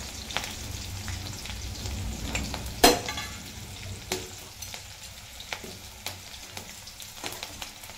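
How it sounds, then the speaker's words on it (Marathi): Green chilies sizzle and crackle steadily in hot oil with scattered pops, and a sharp utensil clatter comes early on. "थोडीशी मिरची तडतडली, आता मी लगेच लसूण घालणार आहे"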